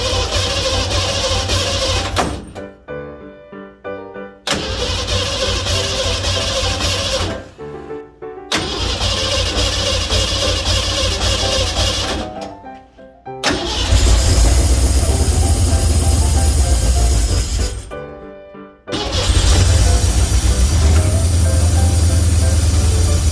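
A restored Ford 302 V8 cranks and fires in repeated attempts, settling into a loud, steady idle with brief gaps between runs and no talk.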